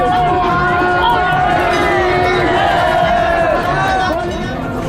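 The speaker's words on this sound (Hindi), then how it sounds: "लोगों का हौसला बना रहे, इसके लिए वहां मौजूद भीड़ ने जयकारे भी लगाए।" A crowd cheering at a fire-walking ritual over a strip of glowing embers, a loud sustained chorus of shouting voices with rising and falling calls, close and dense.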